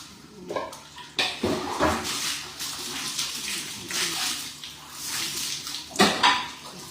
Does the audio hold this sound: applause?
no